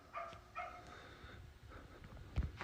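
A dog outside a house gives a few faint, muffled barks and yips in the distance, heard indoors over low background noise.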